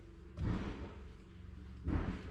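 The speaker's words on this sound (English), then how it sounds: "Looks like someone is trying to kick open a door or something." Two heavy thuds against a door in the Phasmophobia video game, spaced about a second and a half apart, each a loud broad slam with a short ringing tail, like someone kicking at it.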